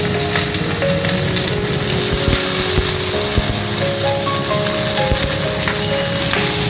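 Diced potatoes drop into a pan of onions already fried reddish-brown for a Bengali potato chorchori, raising a loud, steady sizzle with crackling spits and faint stirring clinks throughout.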